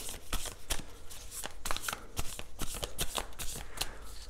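Tarot cards being shuffled and drawn for a reading, with a series of quick crisp riffles and snaps at close range, fairly quiet and without talk.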